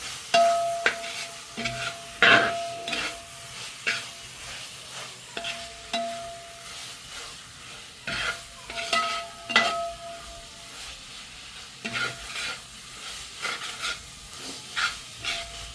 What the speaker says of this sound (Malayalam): ഇനി ഇത് നന്നായി അങ്ങ് ഇളക്കി യോജിപ്പിച്ച് കൊടുക്കണം.